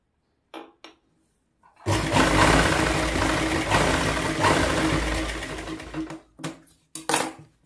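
A sewing machine runs in one sustained burst of stitching on a blouse, a loud, steady whirring hum, framed by brief clicks and handling sounds before and after.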